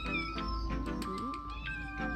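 Several thin, high kitten mews rise and fall over a low background hum, repeating in short bursts.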